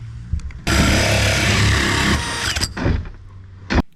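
A power drill whirs loudly into wood for about two seconds, winding down, followed by a few bumps and a brief final burst.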